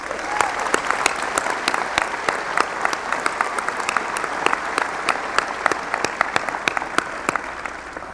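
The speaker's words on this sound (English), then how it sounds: "let's give them all a round of applause" A large crowd at a university winter commencement ceremony applauds in a full, sustained roar of clapping, with individual sharp claps standing out near the recording point throughout.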